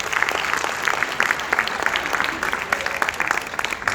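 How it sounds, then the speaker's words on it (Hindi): An audience at a poetry gathering claps steadily, with dense, sustained applause filling the room from start to finish. "इन्होंने जरा भरपूर तालियां हो जाए यार"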